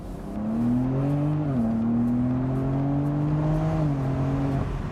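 BMW M4 Competition Convertible accelerating with the top down, engine drone climbing steadily in pitch, dipping briefly at a gear change, then rising again, loud and continuous from inside the car.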